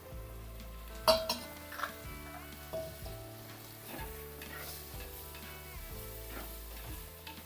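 Chopped tomatoes sizzle and fry in a pan for a bitter gourd curry, with steady close sizzling, a few stirring scrapes and light clinks of utensil on pan, and no talk.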